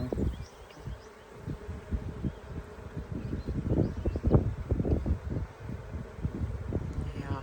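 Honeybees buzz around a hive entrance as they fly in with pollen, a close, wavering hum with passing individual bees and some wind noise over it.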